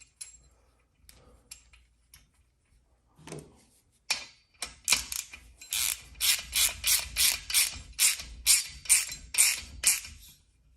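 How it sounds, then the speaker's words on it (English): A 12 mm ratcheting wrench tightens the rocker bracket bolts on a Kawasaki FR730V engine during a rebuild, a few faint taps giving way to a close, rapid run of steady ratchet clicks in rhythmic bursts. "You're going to need a 12 millimeter wrench for the bolts for the rocker brackets."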